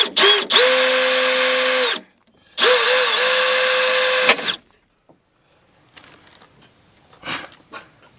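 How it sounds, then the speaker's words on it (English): A power drill bores into a Ford truck door during window regulator work, two strong steady whirring runs separated by a pause, then the bit breaks and only faint rattles and clicks follow. "I just totally broke my drill bit."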